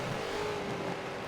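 Engine note of a BMW Z4 GTE race car in a racing video game, a steady droning whine held at constant volume through a brief moment with no talk.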